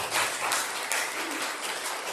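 A church congregation applauds the choir after its singing, a dense, even wash of clapping from many hands throughout.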